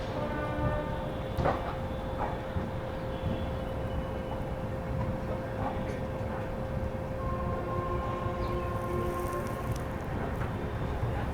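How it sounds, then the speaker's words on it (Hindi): Kaifiyat SF Express pulling out of Aishbagh Junction in Lucknow on a foggy journey, a steady rumble of rolling wagons with a long sustained horn-like tone and brief clanks, continuous and fairly loud throughout. "चलिए यहाँ पर निकल गई गाड़ी अपनी जो है ऐशबाग जंक्शन से"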